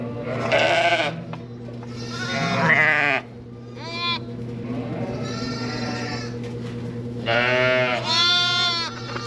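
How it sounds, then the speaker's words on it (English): Newborn lambs and ewes bleating in a barn holding about fourteen or fifteen lambs, loud overlapping calls near and far, some high and wavering, others deeper, coming in bursts over a steady low hum. "There's 14 or 15 lambs in here."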